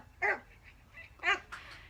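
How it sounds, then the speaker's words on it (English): A dog gives two or three short barks or yips in a home, sharp and fairly close, with quiet room noise between them and no talking. "your dog!"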